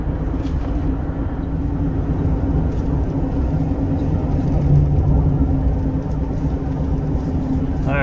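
A helicopter hovers and flies slowly overhead near a bridge work site with a dump truck, a loud, steady low rotor rumble that persists throughout, close and unbroken.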